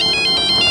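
A phone ringtone for an incoming call plays in short repeating bursts of bright electronic tones, loud and close, with no talking over it.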